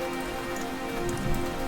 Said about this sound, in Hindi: भगवान, इतनी तेज बारिश।